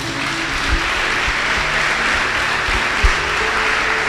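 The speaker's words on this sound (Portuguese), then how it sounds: "Palmas para o Senhor Jesus." Loud, dense applause from a large church congregation, a continuous roar of many hands clapping at once without pause.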